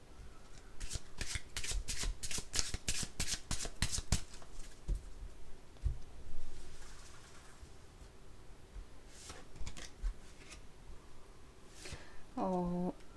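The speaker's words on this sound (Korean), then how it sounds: "조만간 일어날 가장 중요한 사건이 무엇인지 바로 카드 뽑아보도록 할게요" Tarot cards being shuffled: a rapid run of crisp riffling snaps in the first few seconds, then softer scattered shuffles and card taps, close and quiet, with no speech.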